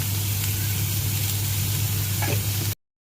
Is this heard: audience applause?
no